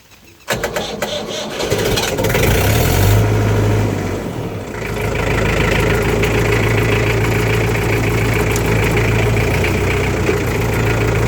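A farm tractor engine cranks and catches, then settles into a loud, steady close-up idle with a continuous low rumble, and a voice is faintly heard beneath it.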